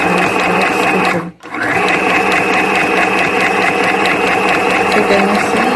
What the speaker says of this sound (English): I'll start pressing this foot switch and this is how I'll start stitching